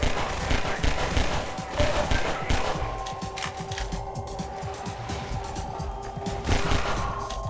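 Submachine gun fire in Half-Life 2, dense rapid bursts of gunshots with clattering impacts, loud and continuous over a steady hum.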